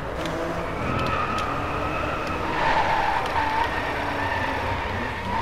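Car tyres skidding on a rain-soaked track in the DriveClub racing game, a steady whine of engine and tyre squeal over a constant wash of spray and road noise, continuous for several seconds without speech.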